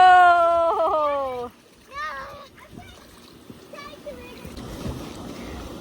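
Water splashes on a tiny backyard water slide at a small Fourth of July gathering. Loud children's voices come first, then a steady, noisy wash of splashing continues under more chatter.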